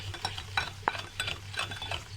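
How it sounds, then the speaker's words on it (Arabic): Soft rhythmic scraping and clinking of a hand whisk working sugar and oil together in a bowl for chocolate cupcake batter, quiet and close, with a low steady hum underneath. "قلب كده بالمضرب، المضرب اليدوي عادي جدا"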